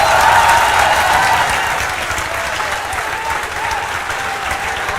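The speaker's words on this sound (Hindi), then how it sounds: "तो जोरदार खड़े होकर तालियों के साथ स्वागत कीजिए सर का।" Students in a classroom give a loud standing ovation to welcome their teacher, a dense roar of clapping that starts strongest and then eases slightly while staying full and continuous, with faint voices beneath.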